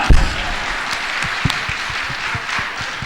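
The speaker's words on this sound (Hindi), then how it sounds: "सही है तो ताली तो बजाओ एक बार।" An audience at a religious question-and-answer gathering in Nasirabad, Rajasthan bursts into applause, a loud, sustained patter of many hands clapping with a few sharper claps standing out.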